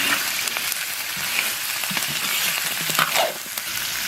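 Scallion, ginger and dried chili hit a pan with stir-fried pork ribs, giving a steady, close sizzle with scattered scrapes and clicks of stirring.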